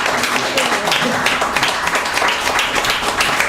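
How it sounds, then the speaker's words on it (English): An audience at a Civil War history lecture applauds to welcome the moderator, a dense wash of clapping that stays steady and fairly loud throughout the short stretch. "let's have a round of applause to bring up our moderator, Claire Gastañaga."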